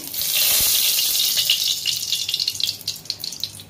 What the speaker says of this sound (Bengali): কড়াইতে প্রথমে আমি তেল দিয়ে দিচ্ছি।